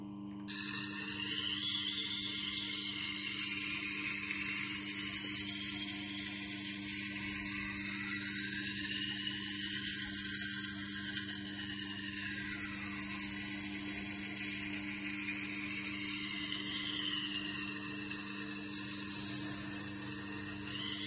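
A Tormek wet grinder runs while a vintage Opinel No.12 knife is sharpened on it, making a steady mechanical hum with a constant low drone and shifting high grinding tones. The sound is continuous and close, with no voices.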